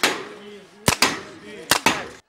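Rifle shots ring out at a biathlon shooting range during a youth ski race, three sharp close reports in quick irregular succession over a murmuring crowd and faint voices.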